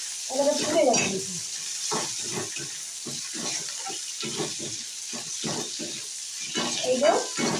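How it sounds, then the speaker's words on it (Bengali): Prawns and onion fry in a pan with a steady sizzle, broken by repeated scraping stirs of a utensil against the pan, close and fairly loud throughout with no talking. "এবার চিংড়ি মাছটা দিয়ে পেঁয়াজটা আর একবার ভেজে নেবো"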